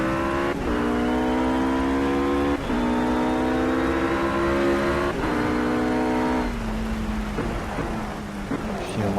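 A RUF race car engine in Project Cars on the Le Mans circuit, a loud, steady harmonic drone that rises in pitch across shifts, with spinning wheels as power goes down and a rougher, noisier final stretch.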